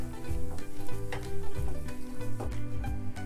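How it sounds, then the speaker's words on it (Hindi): Beans and corn wrap filling with red chilli sauce frying in a pan, a steady close sizzle broken by repeated scraping stirs, with no talking. "रेड चिल्ली सॉस और इसे अच्छे से मिक्स कर लेंगे और इसे 2 मिनट हम और पकाएंगे।"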